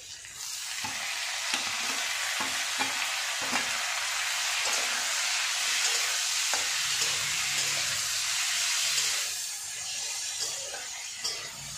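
Onions added to softened potatoes frying in a pan, with a continuous close sizzle broken by repeated scraping stirs of a spatula in an irregular rhythm.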